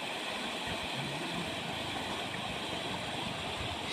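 Floodwater from heavy rain pouring across a village road near Arali Budruk, Tuljapur, a steady faint rushing hiss of flowing water with no voices.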